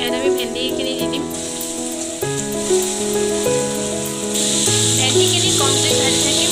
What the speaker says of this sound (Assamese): ভেন্দিখিনি কম জুইত ভাজি থাকিম।